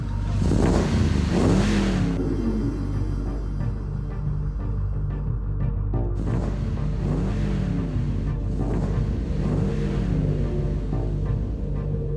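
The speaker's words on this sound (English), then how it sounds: "Sounds like my truck." A truck engine rumbles and revs loudly and close, in repeated surging pulls with a brief dip midway.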